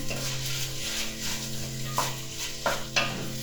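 Chopped potato, carrot and corned beef being stirred around a pan, scraping spoon strokes and a few distinct knocks over a soft continuous sizzle, close and fairly loud with no talking.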